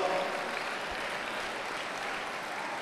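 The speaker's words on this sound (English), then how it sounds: "Let us give them a big round of applause." Steady audience applause at a college day celebration, a dense wash of clapping that holds evenly throughout without pause or voices.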